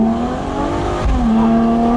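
Ferrari F12 TDF accelerating on a slippery road in Sicily, its engine note a loud, steady tone that rises slightly, dips and holds again, heard close with a brief low thump near the middle.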